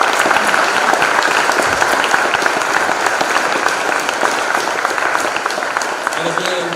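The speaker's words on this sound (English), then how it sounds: "Give Tougaloo a round of applause." Loud, continuous crowd applause at a college event, dense clapping held at a steady level with voices faintly mixed in beneath it.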